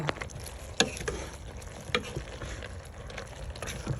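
Beef and broccoli sauce simmers in a pan with a steady bubbling sizzle, broken by a few sharp clinks of a stirring utensil.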